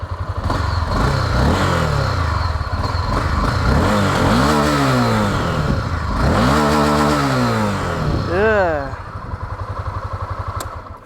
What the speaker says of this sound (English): to give you guys another hint of the exhaust note